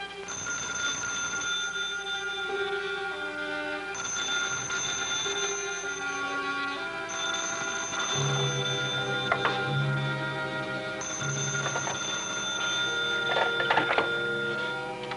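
An old-style bell telephone rings insistently in a quiet room, in repeated bursts with short gaps between them, steady and fairly loud, with no one talking over it.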